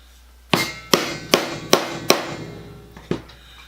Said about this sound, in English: put a little divot in the end of it.